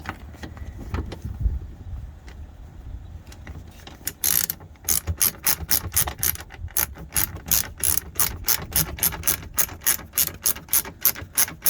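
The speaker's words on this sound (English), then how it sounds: "So now it's easier to put in the 4 bolts." A ratchet with a 13 mm (1/2 inch) socket tightens the seat bracket bolts for a heavy-duty semi truck seat in a Freightliner Cascadia cab. It starts with a few scattered clicks, then runs into a steady, close, loud series of rapid ratchet clicks.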